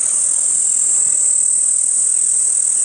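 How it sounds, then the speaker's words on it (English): Cicadas in an acacia tree on a game reserve safari keep up a loud, unbroken, high-pitched shrill that holds steady throughout, with nothing else heard. "Listen to the incredible shrill coming from this acacia tree and the cicadas or cicadas within it"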